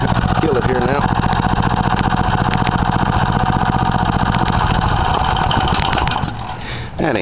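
A new, not yet broken-in 3 HP Briggs engine on a Rupp Lil Indian minibike runs loud and close at a steady, fast putter, then drops off in the last second.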